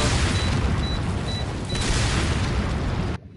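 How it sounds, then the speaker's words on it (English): A video game weapon sets off a small explosion: a dense, loud booming burst sustained for about three seconds, then cutting off abruptly to near silence. "This particular weapon always tickles my funny bone because they just vanish in a in a small explosion"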